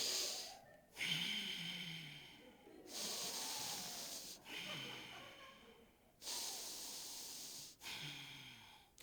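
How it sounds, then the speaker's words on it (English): A person breathes deeply in and out through the nose in slow, repeated cycles: about half a dozen close, soft breathy rushes separated by brief pauses, faint and alone. "I began breathing deeply in and out of my nose"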